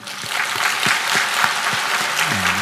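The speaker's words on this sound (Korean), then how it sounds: "2015년도 새해를 주신 하나님께 영광의 박수 드리겠습니다." A church congregation at a New Year's Eve service breaks into sustained applause, a thick, even patter of many hands clapping, with faint low organ-like tones sounding underneath.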